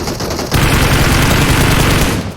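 Rapid automatic gunfire in PUBG Mobile: a sustained, loud, close burst of shots that begins abruptly after a brief lull.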